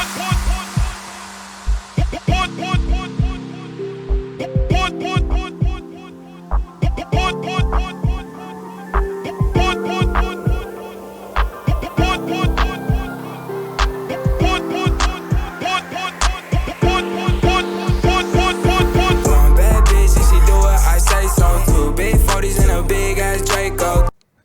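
Slam edit transition built in Ableton with reverb and limiter: punchy rhythmic electronic music with hard drum hits and chords that suddenly cuts into a dense, loud reverb-washed swell near the end, alone without talk.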